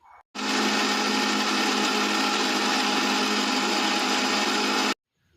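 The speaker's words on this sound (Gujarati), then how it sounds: "મિક્સર મશીન પર આને કરી દીધું છે. હવે આપણે ચાલુ કરીશું મશીન." A small kitchen mixer grinder whirs steadily and loudly as it blends ginger and garlic into a paste, starting abruptly and running continuously for about four and a half seconds before cutting off, with no voices.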